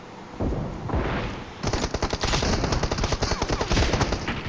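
Rapid video game gunfire, first a steady roaring burst and then a dense run of sharp, close automatic shots that continues without a break.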